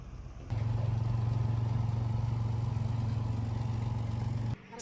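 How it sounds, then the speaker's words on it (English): A truck that was rebuilt after falling into a ravine runs its engine in a steady mid-pitched drone as it pulls out onto the road. The engine starts abruptly and holds a constant level for about four seconds before cutting off. "Then the truck pulled out onto the road."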